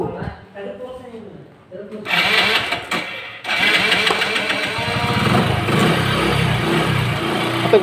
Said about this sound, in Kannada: ಗಾಡಿ ಸ್ಟಾರ್ಟ್ ಆಗಿದೆ